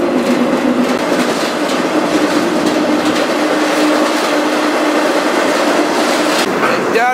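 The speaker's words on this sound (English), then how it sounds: "This train is going fast. This is a fast line." A fast freight train, doing about 60 mph, rumbles steadily along the rails, with a continuous dense roar, a low hum, and faint rhythmic clatter throughout.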